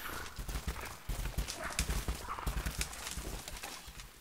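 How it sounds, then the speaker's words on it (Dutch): Hoofbeats of a horse-like creature galloping in the Rise of the Tomb Raider video game, a rapid rhythmic clip-clop running steadily throughout, fairly close and loud with no talk over it. "Het is net een paard, jongen, wat galoppeert."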